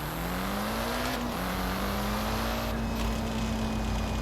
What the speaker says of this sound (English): It sounds like I have like 16 bolts loose in the back of the car.